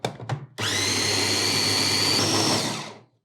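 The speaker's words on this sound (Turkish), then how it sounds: "Tekrardan robottan geçiriyorum" A food processor whirs steadily, blending a powdered mix of sugar, vanilla sugar and baking powder for ground pistachio, starting after two short bursts and running loud and even for about two and a half seconds before cutting off.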